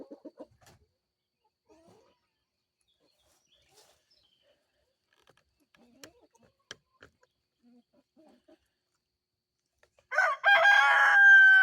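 Faint scattered clucks and small noises through mostly quiet air, then a Dominique rooster bursts into a loud, close crow at the end, chickens let out for the day onto grass.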